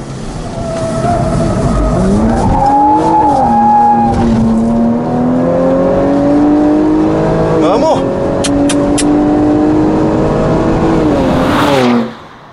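A Jaguar XE-S takes a fast lap on a race track, its rear sliding out. The engine roars loudly and close, with long rising and falling tire squeals that end abruptly near the finish.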